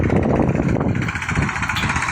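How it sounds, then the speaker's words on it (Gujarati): A Massey Ferguson 241 tractor engine drones steadily up close while ploughing a field, loud and continuous with a rough, labouring rumble as it pulls hard. "તોય તે બિચારું ટ્રેક્ટર બળ કરીને કાઢે છે"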